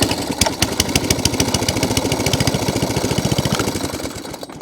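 An Atco Balmoral cylinder lawn mower engine runs steadily close by, a loud, even, rapid chugging that carries through the whole stretch and eases slightly at the end.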